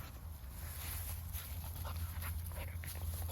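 A dog pants and whimpers excitedly during a play game, its breathy sounds close and steady over a continuous low rumble.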